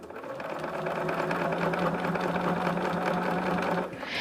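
A sewing machine runs steadily for about four seconds, stitching quilt binding onto a baby quilt a quarter inch from the edge. The whirring is close and continuous, then stops abruptly near the end.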